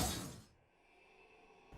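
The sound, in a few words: glass doors shattering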